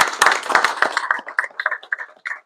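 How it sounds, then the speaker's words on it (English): A short burst of audience applause for senior class officers at a school event, a cluster of close claps that thins into scattered individual claps and fades. "So let's give them one more round of applause."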